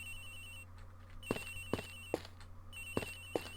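The victim's cell phone rings in the Ace Attorney Investigations game, a faint electronic ringtone with a sustained tone broken by a few sharp pulses in uneven bursts, and nobody talks over it.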